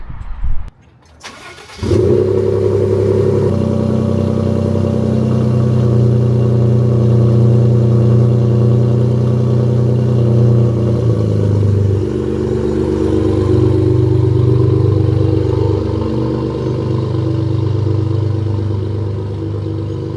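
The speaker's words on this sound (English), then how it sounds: "I'm going to drive off my truck, I'm going to drive around my neighborhood" A pickup truck engine cranks and starts, then idles and rumbles steadily at close range while the truck drives through a residential neighborhood, with a shift in engine note partway through.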